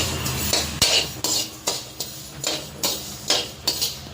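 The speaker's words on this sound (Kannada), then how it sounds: "ಎಳ್ಳು ಹುರಿಬೇಕು" Sesame seeds roast in a pan while a spoon stirs them, giving rhythmic scraping sweeps roughly twice a second with light rattling of the seeds, close and alone.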